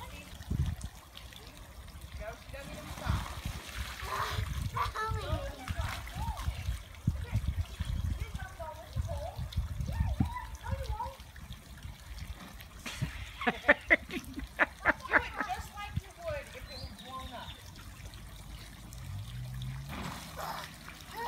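Water sprays and splashes across a backyard slip and slide on a lawn in summer, a steady trickling wash with bursts of splatter, under excited voices of children and adults.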